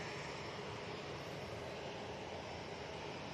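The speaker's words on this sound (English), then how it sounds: "Next out, Jet2 737-800. This will be going off to Corfu." Jet2 Boeing 737-800 departing Manchester Airport for Corfu, a steady broadband engine roar that holds level and loud throughout with no voices over it.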